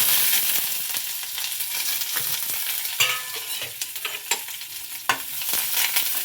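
Steady crackling sizzle of spices frying in hot oil, with occasional louder pops and a few stirring clinks; no voices.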